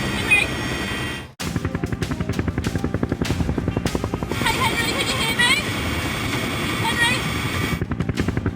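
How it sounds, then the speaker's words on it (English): Rapid, pulsing thump of a rescue helicopter's rotor blades, loud and close, continuing steadily after a sharp cut near the start. "The Westpac Lifesaver Rescue helicopter is racing towards Brisbane Hospital."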